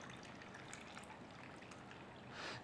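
Cold water pours from a container onto a raw mango sharbat mixture, a soft, steady trickling stream heard close up, ending in a brief louder splash, with no talk.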